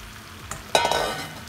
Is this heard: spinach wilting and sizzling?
yes